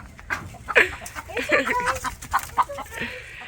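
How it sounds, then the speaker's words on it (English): Cream Legbar chickens cluck and chatter in a farm yard, a run of short, fairly close calls repeating irregularly over soft background noise. "And these are the creams right here. Cream Legbars. Beautiful birds."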